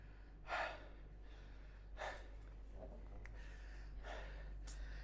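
Heavy, rapid breaths during a set of burpees: three loud gasping exhales arrive a couple of seconds apart, with softer panting between them, over a steady low electrical hum.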